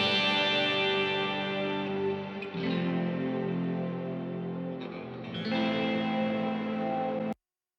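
Electric guitar in a song chorus, run through a different effects chain with flanger-like chorus, distortion and echo, rings out in sustained washy chords that change twice before stopping abruptly; loud, close and with no voices.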